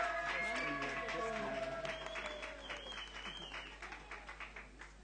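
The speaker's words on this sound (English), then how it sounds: "Give a bigger round of applause than that for Tony." Audience applause at a Garvey tribute evening, clapping loud and dense at first, then thinning into scattered claps as it fades, with a brief voice and tones over the start.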